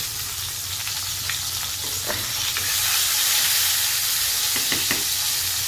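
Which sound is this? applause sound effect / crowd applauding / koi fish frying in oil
koi fish frying in oil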